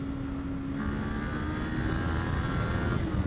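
A 2024 Kawasaki Ninja 500 motorcycle pulls in third gear on a canyon ride, a steady engine drone under rushing wind noise, with a rising tone that builds and swells toward the end.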